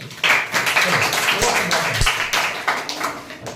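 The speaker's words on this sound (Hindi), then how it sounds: "थोड़ा सा चलो तुम लोग ताली बजा दो तुम लोग के" Students in a classroom clap their hands together, a brief burst of scattered, uneven applause that stays close and fairly loud, with a few sharp taps standing out and the teacher's voice mixed in.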